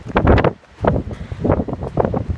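Gusty wind buffets the microphone on a coastal footpath in Cornwall, coming in loud, uneven bursts with brief lulls between them.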